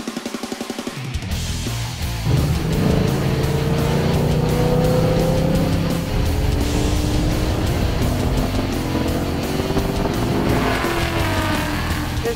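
Kenny Brown Gen 4 GT4-RS Mustang driven hard around the Autobahn Country Club track, a loud, sustained engine roar rising and falling through the gears with tire squeal, heard from close by.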